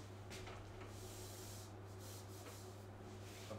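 A duster rubs writing off a board during a statistics lesson, giving a close, continuous brushing and scrubbing with a few stronger swipes, over a steady low background hum.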